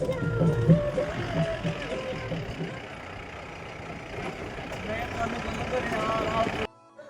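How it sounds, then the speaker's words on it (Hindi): A steady, low engine rumble from inside a car riding through the hills of village Uttarakhand. It continues throughout, with faint voices in the cabin, then cuts off at the end. "तो भैया हम भी गाड़ी में बैठ गए हैं और अब चलते हैं होकरा से"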